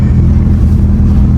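A Mitsubishi Evo 8 with a power-losing fueling problem rumbles loud and close with a deep, steady engine note.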